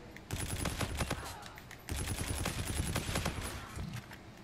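Rapid bursts of gunfire from a De-Atomizer Strike in the video game Infinite Warfare, with dense crackling volleys in two waves that sound loud and close throughout.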